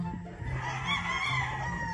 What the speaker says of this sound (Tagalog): Lachan, manok na yan.